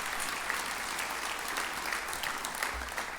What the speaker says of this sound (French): on peut l'applaudir aussi si vous voulez bien